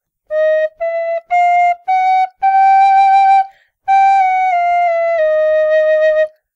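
John Sindt tin whistle playing a short melody of clear, bright sustained notes, separated by brief gaps and then held longer, alone and close with no talk.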